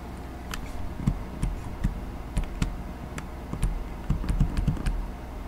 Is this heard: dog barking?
no